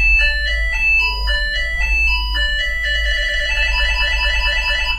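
OctoNoise noise generator running at a fast setting, spilling rapid stepped electronic tones in a bright, chiming, music-box-like pattern that grows denser and more tangled, loud and continuous over a steady low hum.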